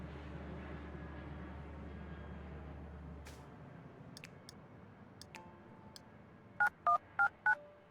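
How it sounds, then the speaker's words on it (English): Telephone keypad dialing tones play in the Airport CEO management game: four crisp, evenly spaced beeps near the end, after a quiet stretch of low background hum and faint clicks. "Let's make a phone call."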